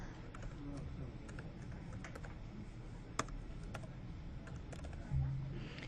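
Typing on a computer keyboard while editing a hospital medication order, steady soft key clicks with a sharper tap near the middle and a heavier thump near the end, close and alone without talk.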